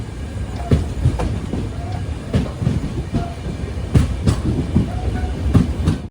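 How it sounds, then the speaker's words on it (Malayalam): The Panchaganga Express rolls into Udupi station with a steady rumble and repeated clickety-clack of wheels over rail joints, close by and continuous. "ട്രെയിൻ ഇപ്പോൾ ഉടുപ്പിയിലെത്തി."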